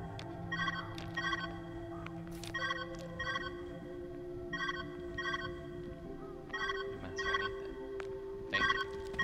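A telephone ringing inside the puzzle video game Viewfinder, a steady pattern of paired electronic trills repeating about every two seconds, fairly faint over a low ambient game tone.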